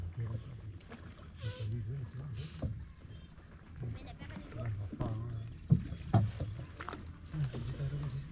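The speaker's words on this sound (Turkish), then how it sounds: "Şimdi geldiğimiz tekneyle tekrar diğer köye geçeceğiz." A boat crosses the water between villages near Trunyan in Bali, a low continuous rumble and wash under people talking on board.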